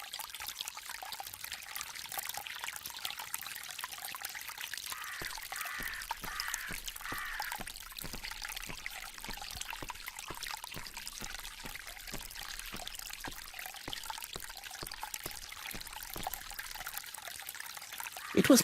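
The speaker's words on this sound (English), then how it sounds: "This fountain makes a very relaxing sound." Garden fountain in The ABC Murders video game, water trickling and pouring in a steady, continuous wash that runs evenly throughout at moderate level, with soft bubbling detail and no voices.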